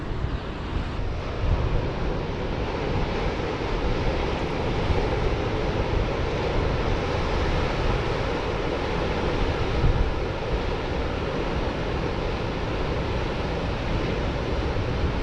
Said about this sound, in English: I just had to stop when I saw this surf.